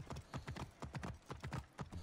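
Horse hooves clip-clop at a steady trotting rhythm in the Assassin's Creed Origins video game, close and clear, with about eight evenly spaced hoof strikes and no talking.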